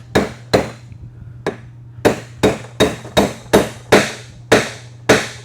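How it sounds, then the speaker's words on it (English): A hammer strikes a stepped driver about eleven times, seating a bushing in a 6L90e automatic transmission; sharp, loud metallic blows at a fairly steady rhythm after a few spaced opening hits, with no talking. "So it's physically going to put the bushing in below surface."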